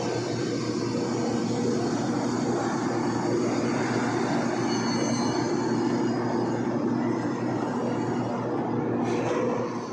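Construction hoist at a building site lifting materials from level 4, giving a loud, continuous mechanical rumble and drone that holds steady throughout without pauses.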